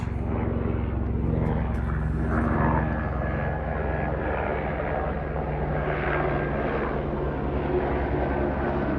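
A U.S. Border Patrol aircraft flies overhead near the border, a loud steady engine drone filling the whole clip with no break and no talk.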